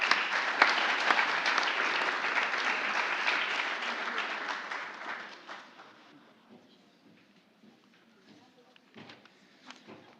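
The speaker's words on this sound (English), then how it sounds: "Now we can round of applause for the business relationship management." Loud, dense applause from a crowd at an IT leaders certificate program graduation ceremony, sustained for about five seconds, then thinning to scattered claps and faint murmur.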